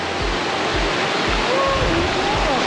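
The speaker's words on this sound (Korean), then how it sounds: "저기에서 시원한 물줄기가 내려오고요" Waterfall at Yongchu in the Daeyasan mountain valley, a steady broadband rush of falling water filling the whole clip, close and continuous with no break.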